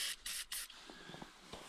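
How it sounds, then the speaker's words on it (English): Three short bursts of aerosol spray from a can of PB Blaster penetrating oil onto the gas line of a Farmall A tractor, close and loud, followed by faint scrapes and taps. "I'm gonna spray some PB blaster on this so it loosens up"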